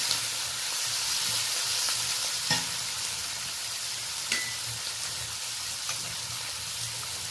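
Duck meat with tomato sizzling and frying in a pan as it is stirred, a steady hiss with a few sharp scraping clacks of the spoon, close and continuous with no talk.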